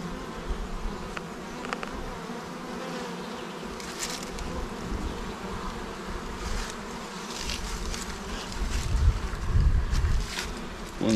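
Honey bees swarm around an opened, crowded hive as frames are lifted out, a dense, steady buzzing close to the ear with occasional louder passes of single bees and soft wind rumble beneath.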